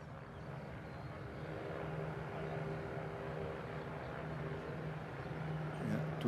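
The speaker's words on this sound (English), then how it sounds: "Aircraft looking very stable on its final approach." An Airbus A350 XWB airliner on final approach to land at Toulouse in light winds, its engines giving a steady, moderately loud jet roar that holds level and swells slightly near the end.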